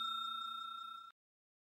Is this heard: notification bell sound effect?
yes